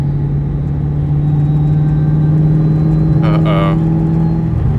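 A 2003 SVT Cobra with a Kenny Bell supercharger idles in a steady, rough, surging drone while the driver is off the throttle, a continuous loud engine hum under a brief spoken interjection.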